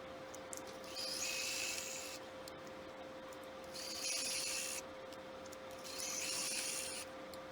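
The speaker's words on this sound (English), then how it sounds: "we're going to sew on one side of that line we just drew." A sewing machine stitches quilt fabric for 4.75-inch coasters in three short bursts, each a few seconds of faint, steady whirring with pauses in between, over a constant low hum.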